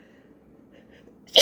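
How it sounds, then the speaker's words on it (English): A single abrupt sneeze bursts out loud and close at the very end, after a stretch of quiet room tone. "I'm gonna sneeze, I'm sorry."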